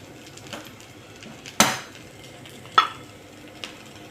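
Vegetable bhaji with little oil frying in a pan on a high gas flame, a soft continuous sizzle broken by a few sharp metallic scrapes and clinks of a spoon stirring against the pan.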